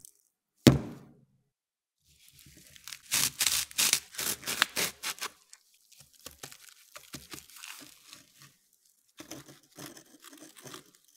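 A small glass ampule tube of cesium from Russia is cracked open: one sharp snap, then a spell of close scraping, crinkling and gritty rustling as sand shifts, with scattered softer taps and rubs after.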